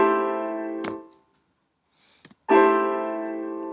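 Two sustained piano chords with their notes slightly staggered in time, each struck loudly and left to ring and decay, separated by a short gap with faint clicks.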